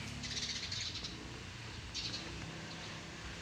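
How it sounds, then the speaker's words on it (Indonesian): A colony of galezra birds, called kelejra in Sundanese, gives repeated high chirping calls in two bursts over a steady outdoor hiss and low rumble. "Ini kalau dalam bahasa Sundanya itu burung kelejra ya."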